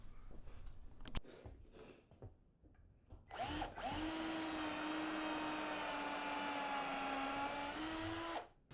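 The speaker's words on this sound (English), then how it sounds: "Man, this wood is crazy hard to drill." A drill bores into hard brown mallee burl wood, a short burst of handling taps and then a loud, close, steady whine holding for about five seconds before stopping abruptly.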